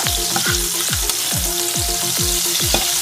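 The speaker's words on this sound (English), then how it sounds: "Now add 2 chilies in a pan." Two chilies sizzle loudly in a hot pan while feta pasta is being made, a steady close hiss broken by a regular series of stirring clinks and scrapes, with no voices.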